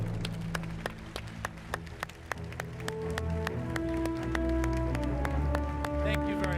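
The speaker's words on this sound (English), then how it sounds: "Let's give them a big round of applause" Scattered, light clapping from a small audience after a doctors' panel session, individual claps sharp and spaced, with a low murmur of voices running underneath.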